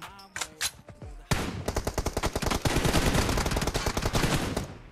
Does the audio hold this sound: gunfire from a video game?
yes